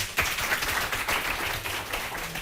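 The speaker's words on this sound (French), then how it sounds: "On applaudit, s'il vous plaît" A game-show studio audience applauds steadily, a dense patter of many hands clapping that carries on throughout at moderate volume.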